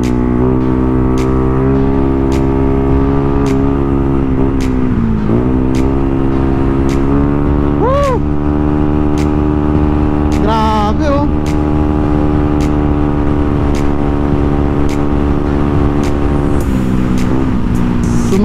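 A Yamaha Mio i 125 scooter with a 4-valve 200cc engine and a Sniper throttle body idles loud and close, with a steady hum and a few brief blips of revving.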